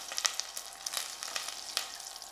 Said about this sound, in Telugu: ఒక్క ఉల్లిగడ్డ, చిన్న ఉల్లిగడ్డ మంచిగా సిమ్ చేశాను, ఫ్రై చేసుకుంటున్నాను